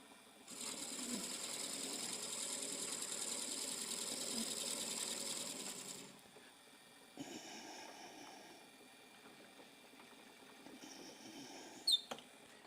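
Drill bit boring into a wooden salt shaker, a steady high whirring grind for about six seconds that stops, followed by quieter handling noises and a sharp tap near the end.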